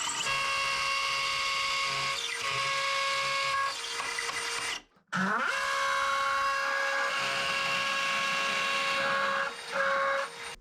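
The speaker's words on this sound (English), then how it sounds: "Sometimes drilling into these blocks, you're not going to get the greatest bite" A power drill whines steadily at high pitch while boring into a concrete block, with a short pause midway before it starts up again and keeps running; no talking.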